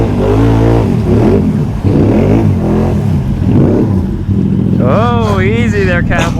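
Quad ATV with an 850 engine labouring in deep mud, a loud continuous engine drone near the mic under a voice, then a high revving whine near the end.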